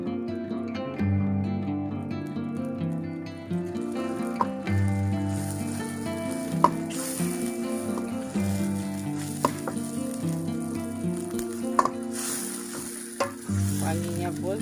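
Clams frying with spices in a pan for an Acehnese stir-fried clam dish, with a steady loud sizzle, stirring scrapes and a few sharp clicks of a utensil against the pan, no talking.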